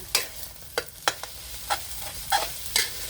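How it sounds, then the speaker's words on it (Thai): Glass noodles with egg and a spoonful of oyster sauce are tossed in a hot pan, giving a series of sharp, evenly spaced scraping stirs over a low sizzle, close and clear with no talking. "น้ำมันหอย หนึ่งช้อนโต๊ะ นี้นะคะใส่ตรงเส้นนะคะ ใส่ตรงเส้นค่ะ แล้วก็คลุกค่ะ"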